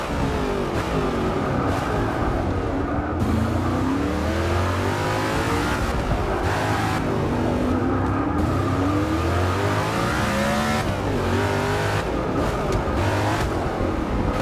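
Race car engine in Forza 6 revving hard and continuously through gear changes, with rising and falling pitch sweeps, loud and close throughout the lap with no voices.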